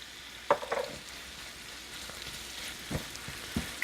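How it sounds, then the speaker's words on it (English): Garlic, thyme and sage stirred in a sizzling pan for a potato bake: a faint, steady sizzle with a few soft scrapes and clicks from the stirring, fairly quiet overall. "Stir everything really well. We want to make sure that all those herbs and the garlic mix with everything."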